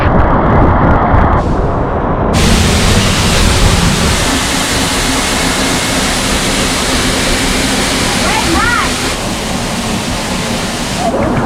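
A waterfall in Boquete roars loud and close, a thick continuous rush with a sudden shift in character early on and a faint brief whistle-like call partway through.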